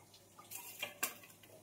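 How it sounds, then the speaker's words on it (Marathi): A metal kadhai is set down on a home kitchen stove, giving a few faint clinks and one sharper metallic clank near the end against a quiet background. "कढई ठेवून देते"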